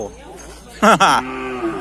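A single cow moos twice in quick succession at a busy cattle market, a loud close bellow that trails off into a softer lowing tone.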